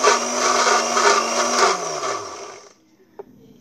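A blender whirs loudly and steadily as it emulsifies homemade mayonnaise from slowly added oil, then winds down and stops, followed by a brief faint clink in near silence.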